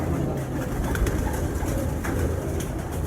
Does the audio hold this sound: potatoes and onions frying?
no